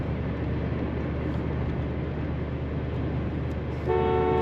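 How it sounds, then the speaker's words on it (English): Horn of a 1986 Chevrolet Monte Carlo CL sounds once near the end, a loud steady toot close by, following a low idling rumble with no talk. "Horn sounds good."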